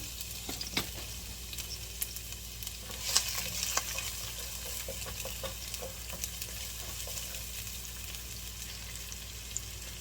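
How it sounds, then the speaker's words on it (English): Chopped onions frying in a pan as the base of a shepherd's pie, a soft steady sizzle with occasional stirring clicks and scrapes, no talking. "We're going to let this fry a little bit and then put in our hamburger"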